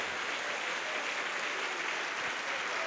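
A church congregation applauds after a healing prayer, a dense, steady hiss of many hands clapping at once, fairly quiet and with no talking over it.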